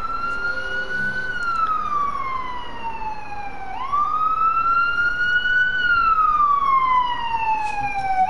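A loud emergency vehicle siren wails on a street, its pitch sweeping slowly down and back up in long cycles over steady traffic rumble.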